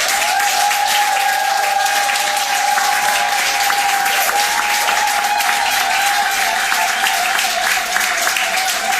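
Sustained, dense applause from a wedding party at a French civil ceremony, honoring the mayor; loud and continuous throughout with a few louder claps standing out.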